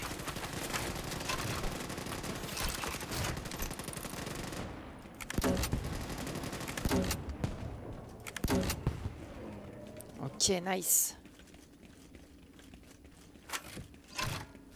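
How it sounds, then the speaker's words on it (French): Grenade launcher fire in a shooter video game, with heavy repeated bursts and booms over music and action noise, and someone talking through it. "J'aime bien le son du lance-grenade."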